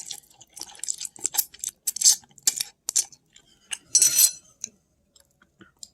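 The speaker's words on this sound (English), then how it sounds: "I cut myself a slice of the leftover pecan pie with a spoon." A spoon cuts into a slice of leftover pecan pie with a series of sharp, close clicks and scrapes against a plate, some bunched together and others isolated, quiet in between.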